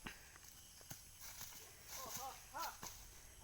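Irregular hoof clip-clops of a horse walking nearby, mixed with faint chirpy voice-like sounds and quiet background noise.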